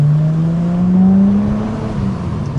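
A Mitsubishi automatic car accelerates hard on a half-empty road after a Top1 Evolution engine tune-up treatment, its engine note rising steadily and loud throughout, with no talk.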